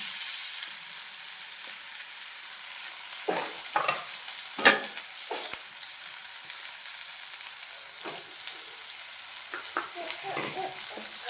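Onion, coconut, ginger and garlic masala paste sizzles steadily in a pan while being stirred, with a continuous frying hiss and several scraping stirs, one louder clank in the middle.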